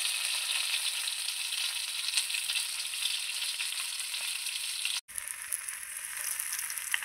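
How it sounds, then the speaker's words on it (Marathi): Catla fish pieces fry in a pan until crisp with a steady, bright hiss of sizzling oil that runs without a break except for one brief gap near the end. "ह्याप्रमाणे मासे छान खरपूस तळून द्यायचे आहेत"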